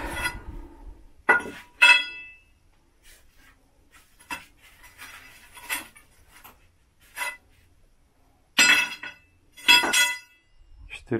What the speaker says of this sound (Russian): Штанги по метру разбираем.